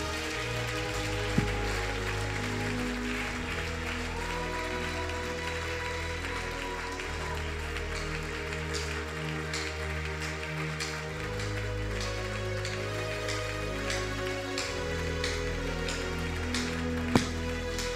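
A church congregation applauds steadily throughout, a dense continuous patter of clapping at even loudness, with a musical tone and hum sustained underneath.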